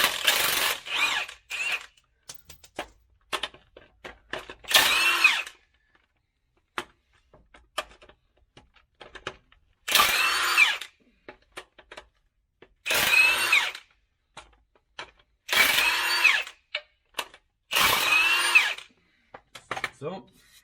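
A power tool spins out bolts on an Eaton Fuller 10-speed transmission in six short, loud whirring bursts spaced by pauses, with someone talking quietly and metal clinking between them.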